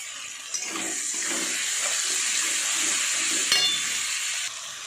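Butter sizzling and frying in a pan for a chicken and shrimp dish, a steady close hiss with a few soft stirring knocks, no talking.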